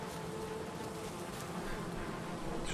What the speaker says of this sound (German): Leute, die Bienen sind glücklich.